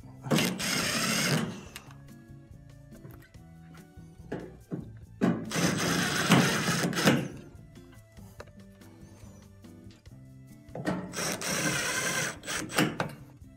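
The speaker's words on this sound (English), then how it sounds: "Now we can reinstall the 3 screws on the front." Three screws are driven back into the front of a machine: three separate whirring bursts of a power screwdriver, each lasting a second or two, close and fairly quiet, with gaps between them.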